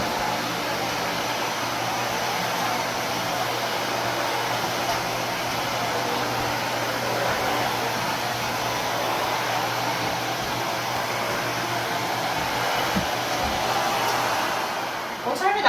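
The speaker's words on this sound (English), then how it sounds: "You're ready to vacuum." A Miele canister vacuum cleaner runs with a steady, fairly quiet whooshing hum that holds constant and close, a voice speaking faintly over it.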